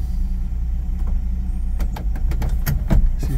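A 1960 Chevrolet Biscayne rolls slowly out of a garage, its engine giving a steady, loud low rumble, with a few sharp mechanical clicks and knocks near the end.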